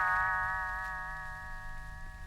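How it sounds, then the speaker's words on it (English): One bright bell chime rings out as a page-turn signal for a vintage Disney read-along record, a clear ding that hangs on in a long, slowly fading ring, near and alone. "You will know it is time to turn the page when Tinker Bell rings her little bells"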